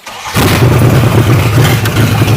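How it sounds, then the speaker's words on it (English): A 1989 Dodge Dakota truck with a 5.9 engine cranks and catches, then settles into a loud, steady rumbling idle close by, with no talking. "let's just crank it up"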